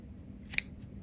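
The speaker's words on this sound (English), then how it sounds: "So I'm going to cut a couple of semi-medium pieces here" Scissors snipping through a piece of crochet yarn, one crisp close metallic cut standing out against a quiet background, with a faint second snip at the end.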